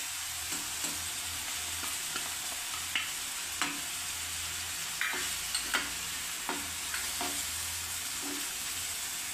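Ginger-garlic paste, chilli and tomato sautéing in a pan for masala pav, giving a soft, steady sizzle with scattered light stirring clicks, fairly quiet and close, with no voices.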